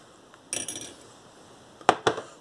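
A spoon stirs a hot honey drink in a glass, giving a brief clinking burst early on, then two sharper, louder clinks near the end against a quiet background.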